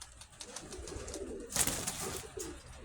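A female pigeon of the blue-pied kind coos in a low, soft rolling murmur, close and continuous, with a brief louder flutter or rustle partway through.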